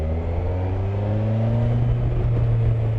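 Kawasaki Versys 1000 (2020) motorcycle accelerating on the road, its engine note climbing steadily with rising harmonic tones over a low rumble, close and continuous for a few seconds with no talking.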